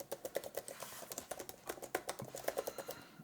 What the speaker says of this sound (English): Can I start typing?